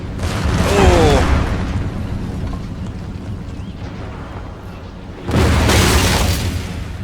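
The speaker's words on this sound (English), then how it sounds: "Put some mortar rounds inbound." Mortar and cannon fire in the video game Empire Total War during an American attack on a British fort: two loud deep booms with rumbling tails, separated by a quieter stretch of low battle ambience.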